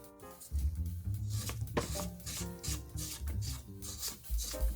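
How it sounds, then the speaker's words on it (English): A spatula scrapes the sides of a mixing bowl of butter cake batter, giving soft, close rubbing and scraping strokes in an irregular rhythm, fairly quiet and with no talking. "we're going to go in and scrape the sides"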